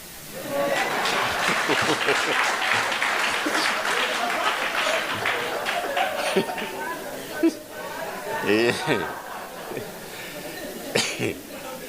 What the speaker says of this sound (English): I don't know what the clapping is all about